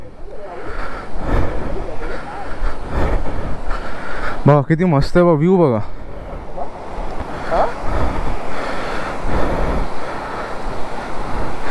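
Kumbhe waterfall in monsoon rushing steadily as a loud broadband roar throughout, with people talking over it and a brief whistling or tonal sound in the middle.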